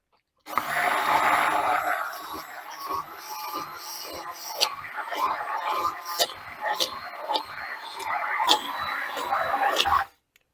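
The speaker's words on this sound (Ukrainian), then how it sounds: "І ще раз ретельно перебиваю блендером." A blender whirs at a moderate level, mixing cheese and sour cream for a cheesecake layer, its motor drone broken by repeated knocks and clicks as the mixture churns, then it cuts off.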